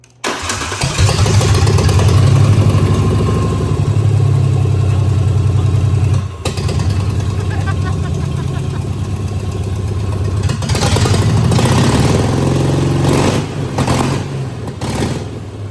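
A Ranger pickup truck engine cranks over and settles into a steady, loud idle after a tune-up, running smoothly and close by with no talking, with a brief dip and a slight revving change near the end.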